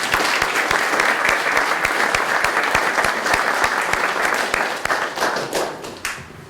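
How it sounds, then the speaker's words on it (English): A hall audience at a youth speech competition applauds loudly and close, in a dense sustained burst of clapping that tapers off over the last second or two. "I think that deserves a round of applause from everyone."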